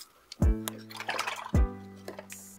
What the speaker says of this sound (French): Mettez un ballon sur le robinet, remplissez d'eau et nouez le ballon.